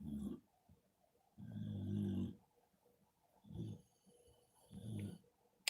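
Loud snoring from people sleeping nearby, four long rumbling snores in a slow irregular rhythm with quiet pauses between them and no talk.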